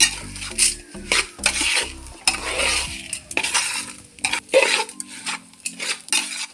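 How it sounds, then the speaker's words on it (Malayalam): A spoon scrapes and clatters in a pot as ground lentils are mixed with salt for chutney powder, irregular close stirring strokes with metallic knocks and no talk. "ഇനി നമുക്കിതെല്ലാം കൂടി ഒന്ന് മിക്സ് ചെയ്ത് ഇനി നമുക്ക് നമ്മുടെ ആവശ്യത്തിനുള്ള ഉപ്പ് കൂടി ഇട്ട് കൊടുക്കണം"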